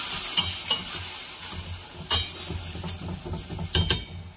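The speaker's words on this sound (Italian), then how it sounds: "Ora ci vado a mettere la mia carne. Vado a bagnare con mezzo decilitro di vino rosso" Meat browning in a pan after a splash of red wine: a steady soft sizzle under the occasional clink and scrape of a utensil stirring, close and moderately quiet.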